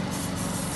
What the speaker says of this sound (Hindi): वो स्प्रे कर रहा है।